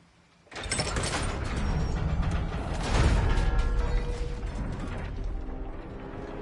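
A crank mechanism in God of War Ragnarok is turned, loud ratcheting clicks and creaking gear noise starting abruptly and grinding on steadily, swelling midway, with no talk.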